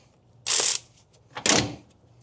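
Two separate bursts of a ratchet working a bolt on a Toyota Corolla alternator bracket, each a short, crisp mechanical clicking rattle heard close up, with a quiet pause between them.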